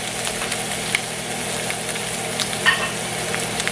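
A ribeye steak fries in a hot pan, giving a steady, dense sizzle with small pops and crackles that runs unbroken throughout, close and fairly loud with no talk.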